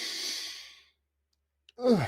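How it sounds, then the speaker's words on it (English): A long, deep exhale like a sigh opens the clip and fades into silence. After a short click, a strong breath is drawn in sharply, close up, as part of a deep breathing exercise. "Feel what it's like to suck that air down so deeply into your lungs"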